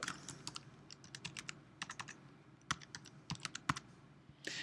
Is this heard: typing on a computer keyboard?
yes